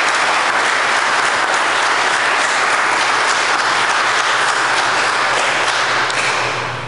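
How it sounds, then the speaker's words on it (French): A congregation at a Saturday Mass claps steadily for the parish volunteers, a dense, even wash of applause that holds for several seconds before fading at the end. "Je pense qu'il faut applaudir toutes ces personnes."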